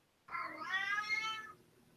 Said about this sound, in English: somebody's cat is going buck wild